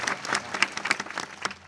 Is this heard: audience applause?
yes